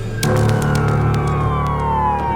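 A loud, close siren wails steadily at a NASCAR crash at Pocono, its pitch sliding down over a rumbling vehicle engine.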